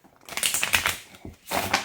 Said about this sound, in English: Let's give it a couple good more shuffles.